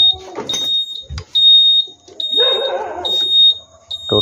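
A Honda Dream Yuga motorcycle's indicator beeper sounds after a battery power and wiring fault is repaired, giving a run of short, high, regular beeps close by, with some brief mechanical noise partway through.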